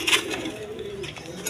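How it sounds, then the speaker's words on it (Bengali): A pair of cream-coloured male pigeons cooing close by, a short soft throaty coo lasting about a second and a half, no talking. "এইখানে এক পেয়ার কবুতর আছে, এগুলো মূলত দুইটা নর, ক্রিম মিলি কালারের"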